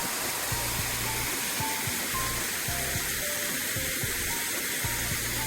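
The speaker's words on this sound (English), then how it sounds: "Another waterfall on the roadside." A small roadside waterfall in forest near Riverston, Sri Lanka, splashes in a constant, even rush of falling water, moderately near and uninterrupted, with faint intermittent low hums in the background.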